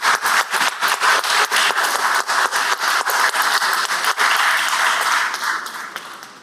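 A Senate chamber claps for visiting 8th graders, individual hand claps distinct and close in a brisk, fairly loud round that tapers off toward the end.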